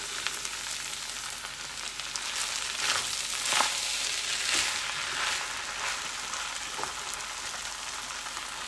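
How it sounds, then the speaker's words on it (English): Coca Cola chicken frying in a pan with soy sauce and salt, a steady close sizzle and crackle running throughout with brief louder pops, no voices. "I'm going to leave that alone and let it fry a little bit in that spot"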